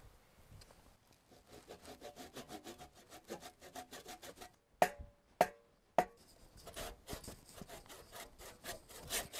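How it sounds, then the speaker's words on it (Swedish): A hand saw cuts back and forth in steady rhythmic strokes, close and clear, with a few sharp knocks partway through before the sawing resumes. "Jag tänkte ju att du skulle såga om mitt ben här."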